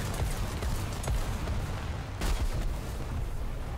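Bombs explode in the tank and aircraft battle game War Thunder, heavy booms and crashing blasts rolling over a dense, continuous low rumble of battle noise, with one sharp burst standing out.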